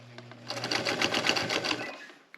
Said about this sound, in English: We're going to go all the way around and sew our hem down